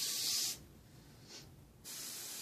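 An airbrush sprays paint through a freehand stencil for dragon artwork. A soft, steady hiss plays close by, then drops away, comes back in a brief puff, and resumes.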